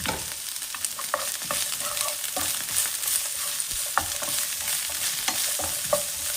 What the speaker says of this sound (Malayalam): ഇതൊന്ന് വഴന്ന് വരണം.